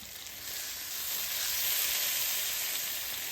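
A birria quesadilla made with corn tortillas fries in a non-stick pan, giving off a steady, close, bright sizzle and hiss that swells slightly midway and carries on alone without talk.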